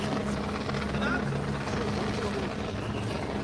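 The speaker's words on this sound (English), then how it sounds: "Yeah, it's just a helicopter." A helicopter drones steadily in the background near the Giro d'Italia stage finish in Cassano Magnago while someone talks over it.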